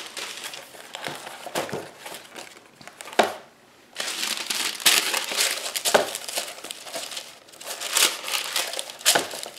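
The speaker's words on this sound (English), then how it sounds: "And then tear off a bunch of sheets." Sheets of paper torn off and crumpled, a series of loud crinkling, crunching bursts with a brief pause partway through.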